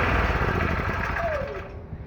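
A small inverter petrol generator runs with a steady, buzzing engine drone close up, then its pitch sags and the sound thins out as it begins to wind down, with no talk.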